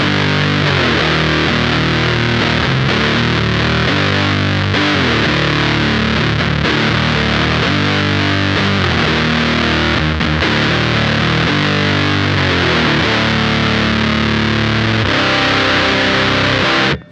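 A Minotaur Sonic Terrors distortion pedal with its tone control turned to minimum gives a thin, buzzy, heavily distorted guitar tone. Sustained chords ring loud and continuous for the whole stretch, with no talking.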